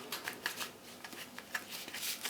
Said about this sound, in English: So, shuffling for Pisces.